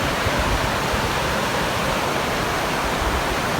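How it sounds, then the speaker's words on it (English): Water rushing through a river glen makes a dense, continuous roar, loud and steady without breaks and with no voices. "Come along here and we got a shot of the water."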